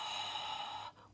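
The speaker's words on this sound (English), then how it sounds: "And exhale." A deep breathy exhale during a yoga session, a steady airy rush that fades out near the end.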